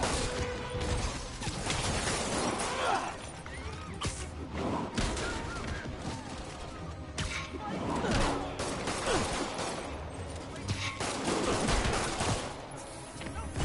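Gunfire in a Spider-Man video game, repeated loud bursts of shots and clattering impacts over busy action noise, with voices shouting over the fighting.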